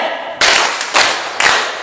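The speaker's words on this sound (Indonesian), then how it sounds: "Baik, tepuk tangan untuk kita semua." A classroom of students clapping hands together in a few loud, bunched bursts, each a short volley of close claps, separated by brief lulls.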